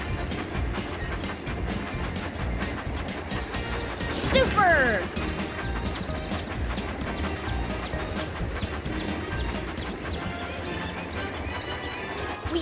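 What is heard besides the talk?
toy train running on tracks in a video game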